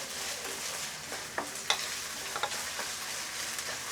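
Carrots stir-fried in a pan for vegetable Hakka noodles, with a soft continuous sizzle broken by a few sharp clinks and scrapes of a spatula, close and without talk.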